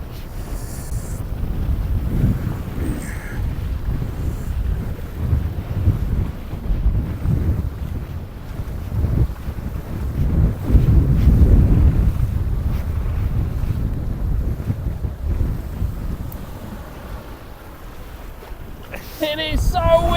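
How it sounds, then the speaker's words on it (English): Strong wind buffets the microphone on the Anglesey coast at Mol Y Don while fishing, a constant heavy roar with surges and gusts and surf beneath, lasting throughout with a brief voice near the end. "It is so windy!"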